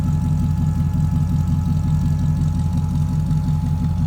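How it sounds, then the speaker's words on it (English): A 1939 Buick Coupe street rod with an LS1 engine idles, heard from the rear, giving a steady, loud, deep rumble that holds even throughout with no speech. "let's go back here to the rear of it so you can hear it run"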